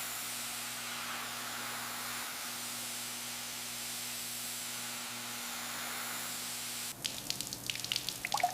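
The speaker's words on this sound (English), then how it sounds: "Use more water, let's rinse it all down." Water sprays and hisses steadily over a 1955 Chevrolet Tri Five during restoration cleaning, a constant rinsing wash with a low hum beneath, ending in a few irregular splashes and drips.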